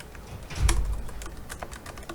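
Quick bursts of computer keyboard typing as an email address is entered, soft clicking keystrokes with one louder cluster, close and alone with no voices.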